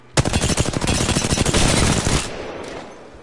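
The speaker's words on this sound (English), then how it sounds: "They're shooting at me!" Loud sustained machine-gun fire in a video game, a rapid stream of shots that runs for about two seconds, then cuts off and leaves a fading echo.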